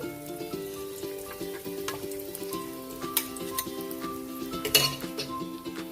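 Daing na bangus, split dried milkfish, frying in oil in a pan with a steady sizzle, broken by a few utensil scrapes and light clinks against the pan.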